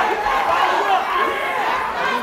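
Boxing crowd at an amateur Golden Gloves novice welterweight bout in Chicago, cheering and yelling loudly in a steady, dense roar that holds for the whole stretch.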